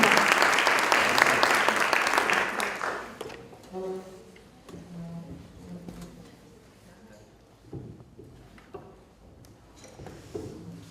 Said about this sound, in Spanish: Un aplauso vallense.